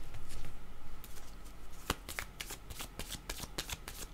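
A tarot deck being shuffled by hand, dense rapid riffling card flutters with a few sharper slaps near the end, close and steady, no voices over it.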